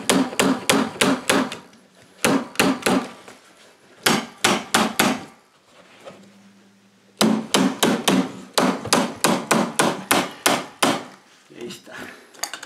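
A staple gun fires repeatedly while fastening carpet onto wooden stairs, loud sharp close snaps in quick bursts of four to six shots separated by short pauses, with a faint low hum during one pause.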